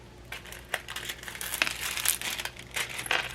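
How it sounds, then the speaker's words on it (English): Plastic film crinkles and crackles as it is peeled back from a diamond painting canvas, a close series of irregular rustling bursts with sharp little pops. "Okay, peel the plastic back."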